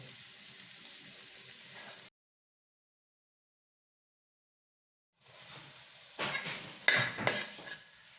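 Onions, beans and carrots sauté in sunflower oil with a soft, steady sizzle, then the sound cuts out for about three seconds before stirring resumes with louder scrapes and clatter against the pan.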